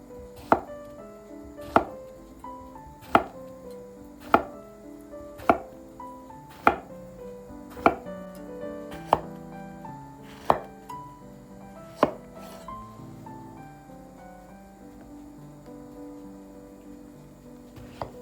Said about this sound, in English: Take one zucchini and slice it into round pieces.